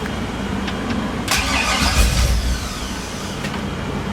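An LS-swapped 1957 Chevy engine runs at a raised idle of about 850 rpm. It makes a steady close rumble with a brief louder surge midway, then settles back to an even idle.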